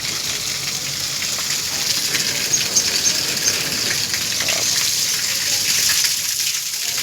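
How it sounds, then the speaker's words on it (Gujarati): Water runs steadily from a cow-mouth stone spout at a shrine, a continuous splashing gush that stays close and fairly loud throughout with no talk over it. "ગાયના મુખમાંથી પાણી આવે છે"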